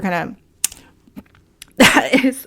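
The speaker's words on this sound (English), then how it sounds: "I'm coughing over here." A person coughs a couple of times, short harsh bursts between bits of talking, close to the microphone.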